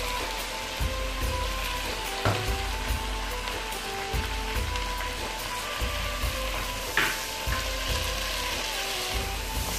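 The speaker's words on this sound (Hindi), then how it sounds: "और आपने इसकी अब भुनाई करनी है। इसके अंदर मैं डालूंगी लहसुन अदरक का पेस्ट" Garlic ginger paste fries in a pan for chicken white korma, a steady close sizzle and crackle with occasional scraping clicks from stirring, and no voices.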